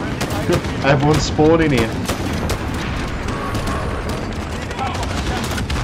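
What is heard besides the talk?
gunfire in Call of Duty: Modern Warfare video game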